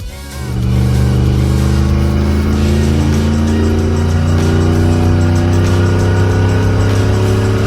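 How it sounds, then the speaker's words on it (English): A van engine revs hard and steadily, its loud, raspy roar rising in pitch with a rough, blatty exhaust note throughout. "I think my exhaust is officially blown out."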